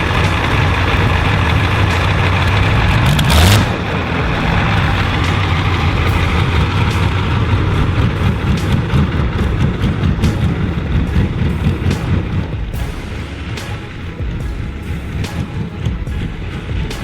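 A Volvo BM 470 Bison's 38.8-liter V12 engine roars steadily and loudly as heavy equipment, a close, dense rumble that holds throughout with a brief sharper burst early on.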